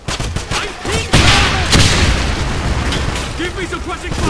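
A grenade blast in the shooter video game Wolfenstein, a loud boom followed by a second burst, with excited talk over the game audio and intermittent gunfire-like pops.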